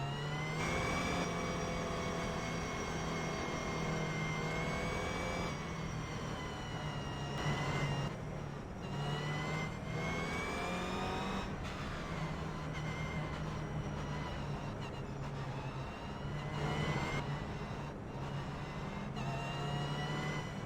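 Race cars in the iRacing sim running a rolling start behind a safety car at Rudskogen in Toyotas, a steady loud engine drone holding throughout with shifting pitch as the pack rolls together.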